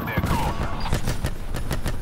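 Rapid gunfire bursts from a Call of Duty: Black Ops 4 multiplayer Hardpoint match, a dense run of repeated shots with several sharp cracks spaced through the stretch, loud and close, with voices mixed in.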